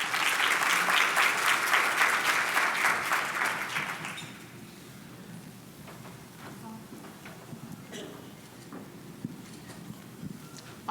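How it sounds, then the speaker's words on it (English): A luncheon audience at a health and wellness panel bursts into dense applause that fades after about four seconds, leaving a quiet room with scattered small thuds and movement. "Let's give Ms. Williams a round of applause."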